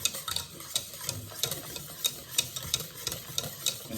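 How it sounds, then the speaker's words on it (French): A whisk beats lemon cream for a lemon meringue tart in a bowl, a quick regular series of close ticking strokes and light scrapes, steady and alone with no talk. "On continue de fouetter."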